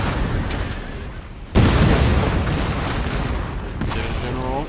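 Cannon fire in the Empire: Total War strategy game, a sudden heavy boom around mid-clip over a steady rumble of battle noise, with a tonal ringing near the end.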